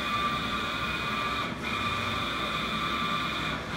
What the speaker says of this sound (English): kites are now starting in the printing process